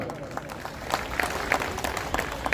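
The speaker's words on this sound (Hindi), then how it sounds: "मैं निवेदन करता हूं आदरणीय प्रमोद सिंह जी के जोरदार तालियों से आपका स्वागत करें।" Scattered applause from an audience at a public honoring ceremony in Jamshedpur, Jharkhand, individual claps standing out over a murmur of voices and background noise.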